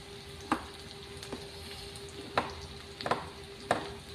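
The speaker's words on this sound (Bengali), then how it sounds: "পেঁয়াজটা গোল্ডেন কালার করে ফ্রাই করে, পেঁয়াজটা দেখুন হালকা ফ্রাই হয়ে গেছে।" Onion frying in a pan, a faint low sizzle broken by several sharp spatula knocks and scrapes at irregular intervals, with no talking.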